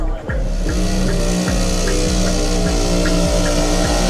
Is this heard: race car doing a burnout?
yes